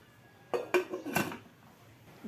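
A cooking pot on a home stove being covered while a Kerala potato curry simmers with turmeric, salt and water: a few close metallic clanks and rattles of lid against pot, brief and distinct, then quiet.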